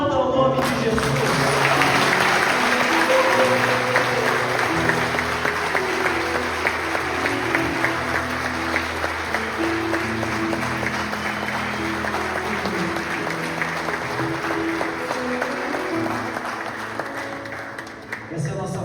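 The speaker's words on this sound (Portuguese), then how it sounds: "Aplauda o nome de Jesus." A church congregation at an Easter service applauds loudly and continuously, dense clapping from many people that tapers slightly near the end, with a voice and some tonal sound beneath it.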